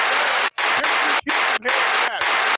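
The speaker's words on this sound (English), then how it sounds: "Can we get some hand claps in this joint?" Audience applause and hand clapping at a live show, several loud bursts of dense clapping broken by brief pauses, with no talk over it.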